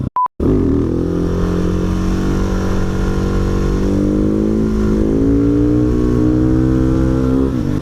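A Husqvarna 701 Supermoto engine revs hard and loud during a third-gear wheelie, its single-cylinder drone climbing steadily in pitch after a brief opening blip.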